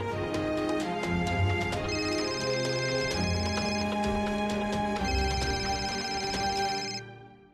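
An incoming call sets off a phone ringtone, a bright repeating electronic melody that plays steadily and clearly for several seconds, then fades out at the end.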